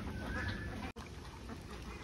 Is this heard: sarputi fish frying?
no